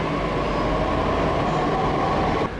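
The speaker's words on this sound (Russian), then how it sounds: "В основном здесь метро надземное." Delhi elevated metro train running steadily close by, a loud continuous rumble with a rail hum that drops off sharply near the end.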